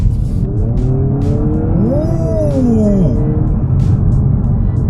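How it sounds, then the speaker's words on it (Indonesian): A 2000 cc hybrid engine in an XPENG X9 Facelift revs briefly, a rising and falling whine that swells in the middle, loud over a steady low rumble. "Coba kita geber sedikit."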